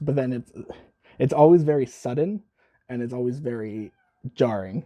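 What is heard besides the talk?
cat meowing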